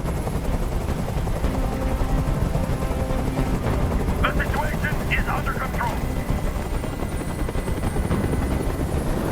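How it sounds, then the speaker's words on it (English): A helicopter's steady rotor drone fills the scene in the video game Detroit: Become Human, loud and continuous, while a voice speaks briefly over it. "Tell that helicopter to get out of here!"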